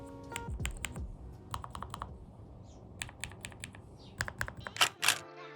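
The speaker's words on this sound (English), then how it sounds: "Enter the Lofree Flowlight mechanical keyboard, a stunning blend of sleek design and cutting-edge technology that will give you the ultimate typing experience." Keys clack on a Lofree Flowlight low-profile mechanical keyboard, crisp close-up taps arriving in irregular bursts and short runs, with a few louder strikes near the end and no voices.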